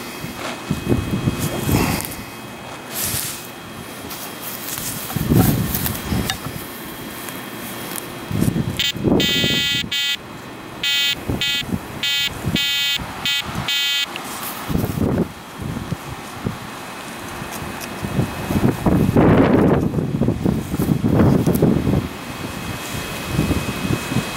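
A Minelab E-Trac metal detector swept over an open dug hole at an old farmhouse site gives a burst of rapid electronic beeping tones midway, heard among outdoor wind and rustling noise.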